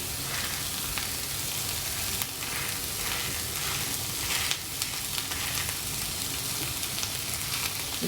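Sausages fry in a pan without added oil, a steady dense sizzle and crackle of fat running throughout with light scraping moments, close and even in loudness.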